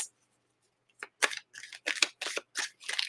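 Tarot cards being shuffled, a quick series of about seven crisp riffling bursts close by after a second of near silence, quiet and without speech.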